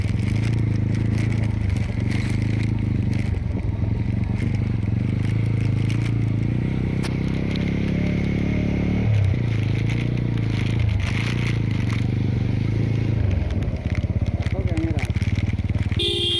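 A motorbike rides along a rough bullock-cart dirt road in a Maharashtra village during a Shimga holiday trip, its engine a steady low drone with scraping and crunching from the uneven track, and people talk over it.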